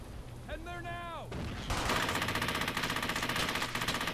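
Rapid bursts of gunfire crackle loudly in the World War II shooter Brothers In Arms: Hell's Highway, turning into a sustained, rattling machine-gun stream after a brief whine.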